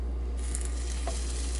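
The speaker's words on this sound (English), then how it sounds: "To that sizzle." Coated shrimp sizzle in a hot frying pan, a steady, close hissing crackle over a low hum with no talking.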